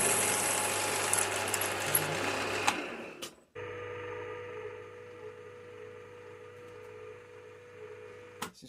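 A 4.5mm drill bores into metal on a lathe, a steady whirring machine hum that stops partway, then resumes more quietly, with a few sharp clicks at the changes.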